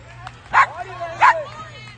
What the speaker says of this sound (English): We got a dog just barking at anything